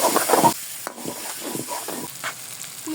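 Boiled, grated potato sizzles and is stirred in a pan of loitta (Bombay duck) fish curry, with a loud hissing fry at first, then scraping stirs and crackling close by.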